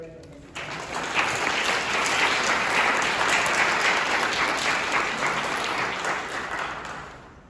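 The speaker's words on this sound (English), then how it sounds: "A round of applause for Redwan." An audience at a university international student graduation ceremony breaks into applause after a short pause, a broad steady wash of clapping that swells quickly, holds, then slowly tapers.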